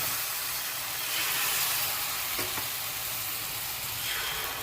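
Batter sizzling on a hot pan, a continuous close hiss and crackle holding steady for a few seconds with no voices.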